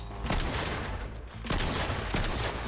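Bursts of video game gunfire from a Doctor Doom challenge match, two loud sustained volleys of rapid shots separated by a brief lull, heard alone without talk.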